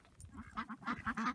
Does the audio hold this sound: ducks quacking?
yes